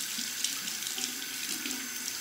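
Tap water runs into a sink to rinse a safety razor, making a steady, fairly quiet hiss and splash with no talking.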